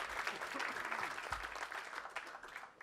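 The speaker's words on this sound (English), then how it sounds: "one more round of applause for Daisy" An audience applauds at a guest speaker event, steady clapping with a voice speaking over it, moderately quiet and sustained.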